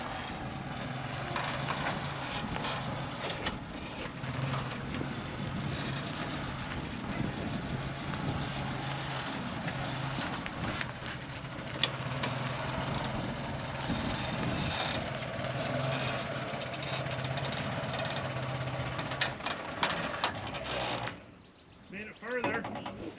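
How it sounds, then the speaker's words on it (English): A 1987 Suzuki Samurai's 1.3-liter engine idles steadily after a carburetor swap, a low continuous drone with a rough, uneven texture that holds for about twenty seconds before briefly dipping and picking up again. "Running an idle test."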